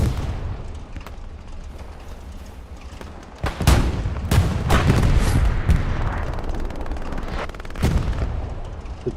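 Gunfire in the video game Hell Let Loose during a night battle on the Foy map: a steady stream of single shots and short bursts, some sharp and close, others duller and distant, with a few heavier booms mixed in.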